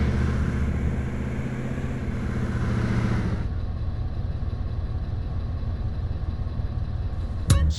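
A car driving in GTA San Andreas: a steady, loud engine drone with road rumble throughout, a brighter whine in the first half, then a sharp bang near the end.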